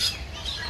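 Birds in an aviary at a bird sanctuary give short high chirps and calls, a brief burst close by over a low background murmur.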